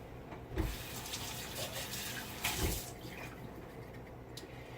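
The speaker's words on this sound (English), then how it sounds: "I need to get some of that water out." Water pours and splashes out of a pressure cooker of bone broth into a sink, a quiet running gush with two brief louder surges, no speech.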